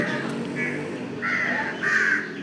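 Several crow caws ring out in short bursts, a few near and loud over a low background murmur.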